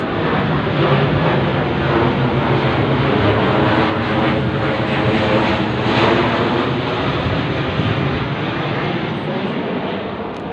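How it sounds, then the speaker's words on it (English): Loud, continuous engine roar of an army aeroplane flying overhead, a broad steady rumble that holds at even strength for about ten seconds and fades slightly at the end, with no voices. "that is actually an army aeroplane"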